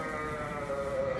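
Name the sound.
hungry sheep bleating in barn at feeding time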